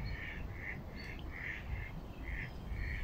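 Bird perched on a tree branch giving a series of short, harsh squawking calls at a steady rhythm, about six of them, moderately loud and heard alone against a low outdoor rumble.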